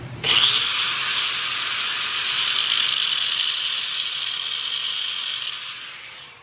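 A power tool cuts off a small quarter-inch metal nib on a #5 steel trap in a shed, giving one loud continuous high-pitched grinding whine lasting about five seconds before winding down.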